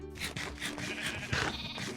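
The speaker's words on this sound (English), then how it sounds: "And then the sheep as well. Come here, sheep." Sheep bleat in a Minecraft 1.20 survival farm, with a few faint, wavering baa sounds close together and no talk over them.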